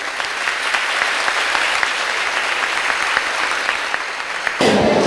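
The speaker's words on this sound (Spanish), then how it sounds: "un aplauso muy fuerte." A graduation audience delivers loud, sustained applause, with a dense, even patter of many hands clapping continuously, ending in a brief shift near the close.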